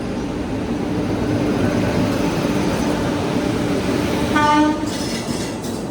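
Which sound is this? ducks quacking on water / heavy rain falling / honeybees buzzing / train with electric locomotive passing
train with electric locomotive passing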